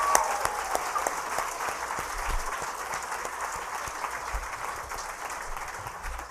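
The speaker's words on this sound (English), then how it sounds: "One more round of applause for our amazing women." An audience at a women-owned business day event gives a steady round of applause for women business owners, a moderately distant, even patter of many hands clapping throughout with a faint crowd murmur.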